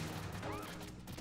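Gunfire from the Metal Gear Solid 2 video game, a brief dense burst of shots with a sweeping tone, heard under a faint voice.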